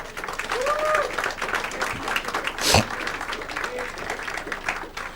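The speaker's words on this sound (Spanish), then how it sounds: "Denle un aplauso al Señor" A church congregation applauds during a service, sustained clapping with voices calling out over it and a sharp knock midway.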